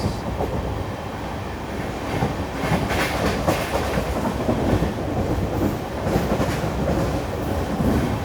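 The Mangaluru Rameshwaram Express runs on rails near Kasaragod, a steady loud rumble of carriages with rhythmic clickety-clack from the wheels throughout, heard from on board.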